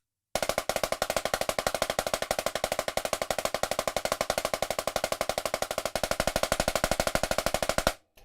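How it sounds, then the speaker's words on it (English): A snare drum roll of double strokes in which every second stroke is played weaker, a rapid even stream of hits lasting several seconds before stopping abruptly, close and alone with no talking. "and then my roll would sound like this"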